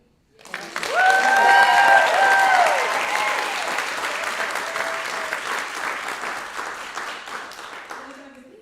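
An audience at an evening music and storytelling event breaks into loud, sustained applause that swells quickly, holds for several seconds, then slowly thins out, with a few voices and whoops mixed in.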